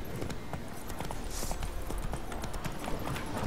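Hooves beat a quick, steady clip-clop as a horse gallops through a wooded area in The Witcher 3, close and continuous, with faint game ambience behind it.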